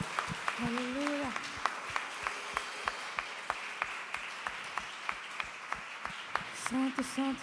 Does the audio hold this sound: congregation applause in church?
yes